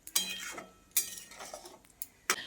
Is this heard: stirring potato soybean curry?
yes